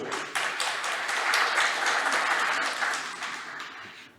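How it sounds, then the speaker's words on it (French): An audience at a French conference on digital fraud and identity verification claps to welcome a speaker, a brief, moderately faint burst of applause that swells and then fades. "je vous invite à l'applaudir"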